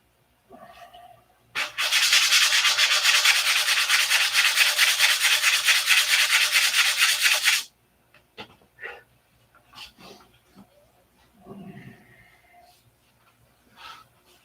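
Sanding and trimming a model P-47 cowl produces a sustained, rapid rasping scrub lasting several seconds, followed by scattered light handling knocks and scrapes.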